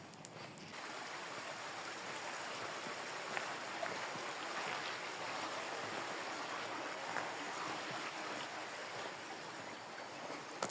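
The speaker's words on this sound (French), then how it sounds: "Oh, ces petits ruisseaux." A small clear stream flows beside a hiking trail on the Stevenson route in France, making a soft, continuous trickling rush with no voices over it.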